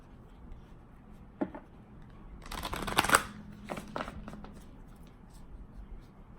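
A tarot card deck being handled and shuffled, with quiet papery riffles and a louder flurry of card noise in the middle, heard close and soft with no talking.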